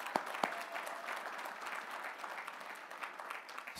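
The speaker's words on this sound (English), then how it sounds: "Give her a round of applause." Audience applauding an engineering award winner at an awards dinner, a brief burst of clapping that settles into steady, moderately faint applause.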